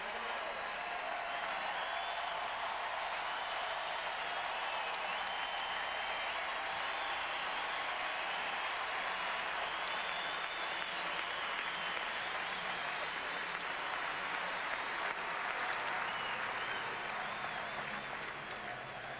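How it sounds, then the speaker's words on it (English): A crowd at the 2012 MLB All-Star Celebrity Softball Game in Kansas City applauds steadily for the full stretch, a dense wash of distant clapping with a commentator talking over it. "Matt Kinsey drinking in the applause from the appreciative crowd here in Kansas City"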